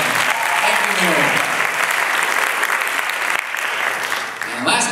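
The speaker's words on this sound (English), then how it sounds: "Give it a round of applause to Mary Nolan." An audience at a political forum in the Bagdad Theater gives a sustained round of applause, dense and loud, with voices mixed in and a few scattered claps as it trails off.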